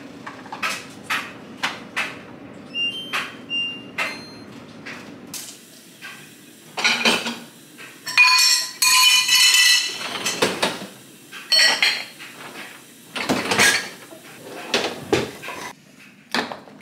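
Dishes, pots and cutlery clatter and clink while a dishwasher is loaded during a home reset cleaning, with irregular bursts of knocks, scrapes and clinks, close and fairly loud, plus what sounds like a cupboard or door closing.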